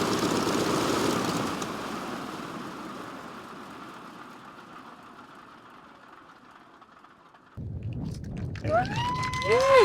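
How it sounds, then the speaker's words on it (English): A large airplane's engines roar steadily for several seconds, the drone slowly fading, before a sharper burst of noise with rising and falling tones takes over near the end. "Big airplane."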